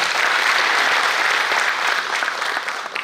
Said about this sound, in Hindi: तालियां बजनी चाहिए दोस्तों।